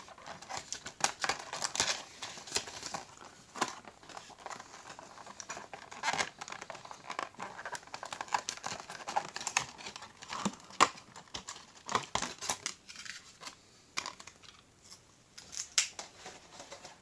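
Plastic packaging is pulled and cut away from a Chevy toy car pack: quiet, irregular crinkling, snipping and tapping close by, with short bursts and pauses throughout and no talking.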